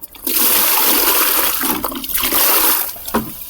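Water poured into cow dung in a container to mix dung water for jeevamrut, a loud, steady rushing splash running almost the whole time with brief swirling surges near the end.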